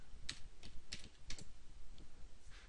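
Someone types login credentials on a computer keyboard: a handful of sharp, irregular keystroke clicks, close and clear, with no talking.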